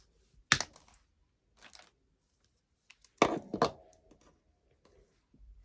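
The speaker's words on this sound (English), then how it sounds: "So I'm just going to cut the back off with some pliers." Pliers snap through the metal back of a card embellishment with two sharp close cracks, separated by a pause, with faint handling clicks between them.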